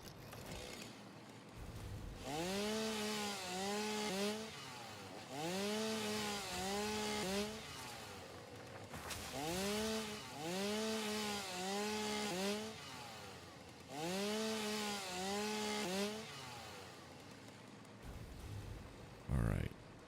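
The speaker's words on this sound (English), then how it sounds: "Oh, also a chainsaw." In the video game Satisfactory, a chainsaw revs in repeated bursts, each with a rising and falling whine, about four cycles over twenty seconds, with quiet gaps between them and a voice talking at times.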